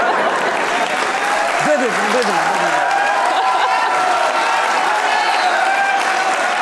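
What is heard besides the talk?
audience applause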